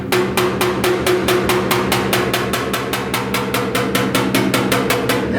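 Rapid, steady gentle hammer taps on the sheet-metal door and fender panels of a 1969 Chevrolet C10 pickup, about four light metallic hits per second, close and evenly paced with no talking.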